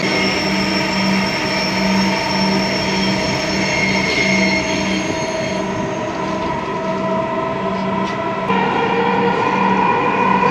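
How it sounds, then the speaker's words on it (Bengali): A Dhaka metro rail train runs, heard from inside the carriage: a loud, steady rumble with a continuous high wheel squeal and a few sharp clicks. No voices. "তো ট্রেন আছে, এখন রানিং এ আছে।"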